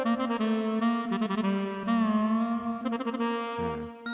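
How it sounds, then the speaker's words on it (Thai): Yamaha PSR-S910 keyboard saxophone voice playing a sustained melodic line with reedy, bright tone, steady and fairly loud, ending with a low note. "แซกโซโฟน"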